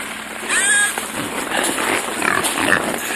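Wild boar piglets on a fishing trip in Leningrad Oblast: several close, loud grunts and squeals over a noisy outdoor background.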